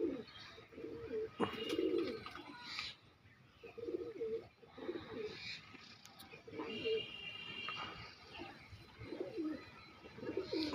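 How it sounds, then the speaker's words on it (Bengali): Pigeons at a pigeon seller's coo in repeated soft, low bursts, close by and steady, with some faint chirps and a few sharp knocks in the background. "পায়রাগুলো দেখে নিতে পারেন ভালো করে"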